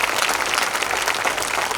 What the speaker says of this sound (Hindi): एक बार तालियां बजा करके माहौल दे दीजिएगा।